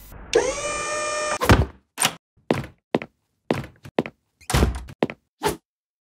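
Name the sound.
magical door of knowledge closing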